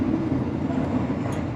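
Executive class passenger train running, a steady low rumbling drone heard from inside the carriage, continuous and fairly loud with no talk.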